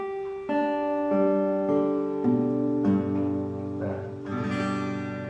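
Acoustic guitar strings of a fretted chord ring out in a sequence of picked notes over about five seconds, every string clean and sustained, fairly quiet with no voice.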